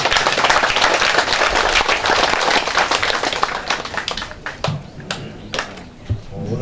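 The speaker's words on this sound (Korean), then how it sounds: "박수로 환영해 주시면 고맙겠습니다." A crowd applauds to welcome the mayor at a building completion ceremony, dense clapping that thins into scattered individual claps toward the end.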